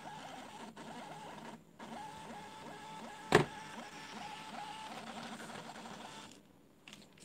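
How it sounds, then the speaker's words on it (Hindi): A micro ATM's small receipt printer prints a mini statement with a fast, rhythmic whirring chatter that runs for several seconds, broken by a sharp click midway, then stops. "और प्रिंट भी दे देता हूँ इसको एक बार प्रिंट।"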